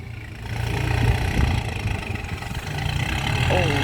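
A tractor's low, steady engine rumbles close by throughout, with a voice speaking over it.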